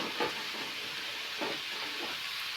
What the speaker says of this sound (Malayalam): ഇതെല്ലാം ആഡ് ചെയ്തതിന് ശേഷം നന്നായി ഇളക്കാവുന്നതാണ്.